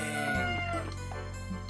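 Chickens in the video game Tales of Rebirth give a short burst of clucking, close and clear for under two seconds, with a steady game backdrop beneath.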